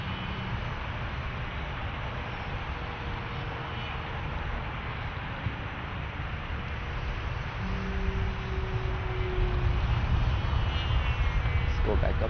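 A Dynam Sonic 185 electric brushless RC glider motor at quarter throttle gives a steady distant whine in the open air, with a faint pitch sweep and the hum growing a little louder toward the end.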